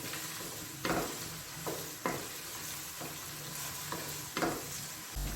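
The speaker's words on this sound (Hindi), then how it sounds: "इसमें डालूँगी प्याज, अब इसको मैं थोड़ी देर के लिए फ्राई करूँगी।" Onions sizzle in ghee in a pan, a steady frying hiss broken by several stirring scrapes that come every second or so.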